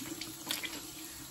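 Cold water runs steadily from a tap into a bathroom sink for rinsing the face, a continuous close splashing hiss with a brief louder burst midway, no talking.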